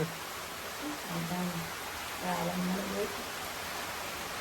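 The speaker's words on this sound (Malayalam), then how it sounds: "അവിടെ ചെന്നപ്പോ നല്ല മഴ പിന്നെ ഒരു കുടയിലുണ്ട് അതിന്റെ സൗണ്ട്" Heavy rain drums on an umbrella as a dense, steady hiss close overhead, with faint speech-like murmurs underneath.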